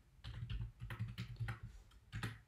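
Computer keyboard typing code, quick irregular clusters of soft key clicks and thumps, close but fairly quiet, with no voices.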